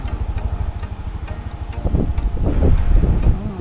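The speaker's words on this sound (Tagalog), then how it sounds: "Lakas ng hangin eh." Steady wind in Siargao rumbles and buffets close to the microphone, growing stronger and gustier toward the end, with a faint rhythmic ticking underneath.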